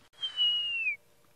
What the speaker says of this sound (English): sounds like a Wahlberg's eagle to me.